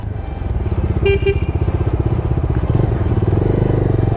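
A Bajaj Dominar 250 motorcycle engine putters steadily nearby while its short horn honks twice in quick succession.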